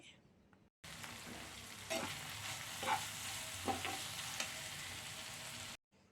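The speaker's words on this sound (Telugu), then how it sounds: "ఇప్పుడు ఇందులో ఉప్పు ఒక టీ స్పూన్ వేసుకొని ఒకసారి కలపాలి" Ginger chutney being stirred in a pan after salt goes in, a close, steady sizzle broken by several soft scraping strokes of the spoon.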